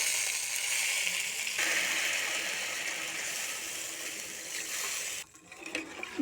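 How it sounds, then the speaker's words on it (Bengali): Broth is poured into a pan of potatoes already fried with spices, giving a loud, steady sizzling hiss that runs for several seconds and then drops off abruptly near the end. "এবার আমি ঝোল দিয়ে দিব"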